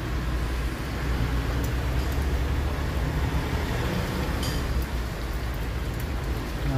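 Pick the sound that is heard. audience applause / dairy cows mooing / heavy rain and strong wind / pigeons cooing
heavy rain and strong wind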